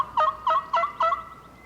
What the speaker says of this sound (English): he's using a multiple reed mouth call, a double reed, I believe. And I'm using a box call over there to the right.